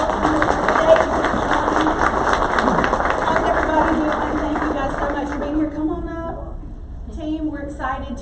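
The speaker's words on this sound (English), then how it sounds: "y'all give them a big round of applause" Sustained crowd applause at the Eggs & Issues 2022 gathering welcoming the Centerville guests, dense and steady, then thinning into scattered claps and crowd noise near the end.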